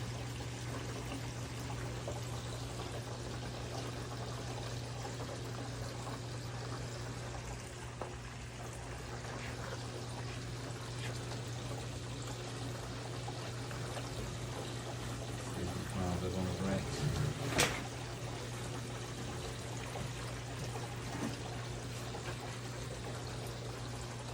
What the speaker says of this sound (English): Like your new waterfall, Rocket?